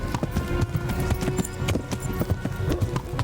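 Hooves pound in a fast, rapid clip-clop as horses gallop in the video game Kingdom Come: Deliverance, a busy rhythmic clatter of many hoofbeats.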